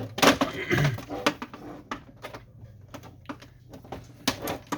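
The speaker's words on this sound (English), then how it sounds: "we're going to take a flathead screwdriver and just remove the tabs" Flathead screwdriver prying plastic tabs off an HP Officejet Pro 6830 printer casing: sharp clicks and snaps, some in quick clusters, with a few scraping knocks, close and fairly loud, no talk.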